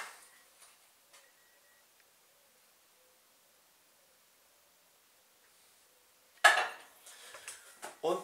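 A little oil goes into a frying pan set on high heat for vegetables: a long near-silence, then a sudden loud burst of sizzling and metallic pan clatter for the last couple of seconds.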